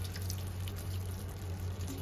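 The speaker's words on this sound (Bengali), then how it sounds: "অল্প একটু জল দিয়ে দিলাম" Water is poured into a cooking pot of vegetables with a steady, low liquid rush and faint splashing that holds evenly throughout.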